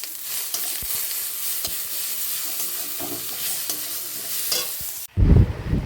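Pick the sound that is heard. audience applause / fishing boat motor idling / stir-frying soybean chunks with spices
stir-frying soybean chunks with spices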